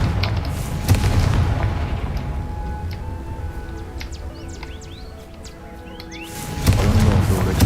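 Deep booming fire-spell blasts in Hogwarts Legacy, a heavy explosion near the start and another near the end with rumbling decay between, and faint game birdsong and effects in the quieter middle.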